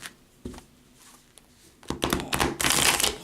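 Tarot cards riffle and slap together in quick bursts, quiet taps at first, then a louder, longer flurry of shuffling near the end.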